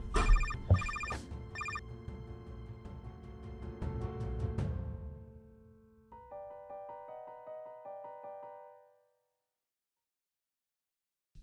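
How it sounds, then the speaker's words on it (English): A telephone rings with repeated electronic tones, first over a busy musical passage, then alone as a steady patterned ringtone that stops abruptly. "Do you hear the ringing phone?"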